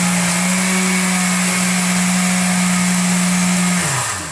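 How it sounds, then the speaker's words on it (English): A blender whirs steadily at close range through a peanut butter smoothie with cinnamon and ice, holding one loud, even motor drone before winding down near the end. "And then we just blend it."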